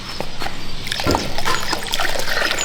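Hot water being poured for a child's bath at home, a steady close trickle and splash running throughout.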